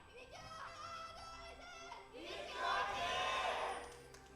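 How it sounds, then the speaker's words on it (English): Esports crowd at a League of Legends LCK match cheering, led by an Afreeca Freecs cheerleader; a murmuring arena swells into a louder, sustained roar of excited voices in the second half. "That cheerleader has really really good, rapturous cheers."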